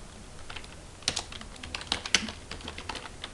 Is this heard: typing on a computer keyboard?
yes